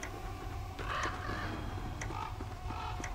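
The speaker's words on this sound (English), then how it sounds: "Some cackling crows." Crows caw faintly in the game Don't Starve Together, a few scattered calls over a low steady ambient hum.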